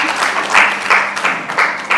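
An audience at a Mother's Day event gives a loud round of applause, with clapping that swells and dips in waves and continues throughout.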